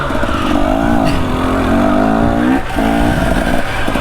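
A trail motorcycle with a manual clutch on a Montana mountain trail revs its engine steadily and close up, the pitch rising and falling with the throttle and dipping briefly before picking up again.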